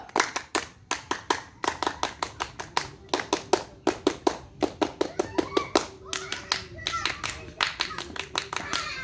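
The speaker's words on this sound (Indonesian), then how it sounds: "3 kali tepuk pramuka." Rhythmic Indonesian Pramuka scout group clapping in repeated bursts of quick claps with short pauses between sets, loud and close, with a few children's voices under it.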